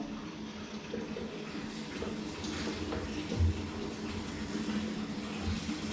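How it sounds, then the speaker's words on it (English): Water runs steadily into a bucket for cleaning a sprayer, a continuous close rushing and gurgling fill with no pauses. "You fill a bucket with water."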